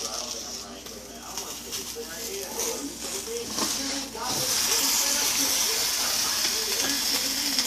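A pot of hog jaw simmering on a stove, giving a soft hiss and bubbling that rise into a louder, steadier steam rush partway through, heard close up while a voice talks over it.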